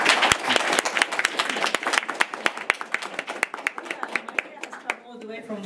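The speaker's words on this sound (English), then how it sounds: "We can give them a round of applause." Audience at an urban sustainability conference session applauds the presenters, a dense burst of clapping with sharp individual claps that thins out toward the end as a voice begins to speak.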